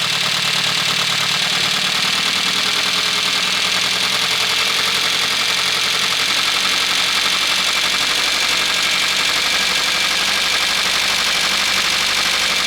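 A cold 1989 Nissan Pao engine idles at raised revs, a steady continuous hum that runs unbroken and fairly loud the whole way through, with no voices over it.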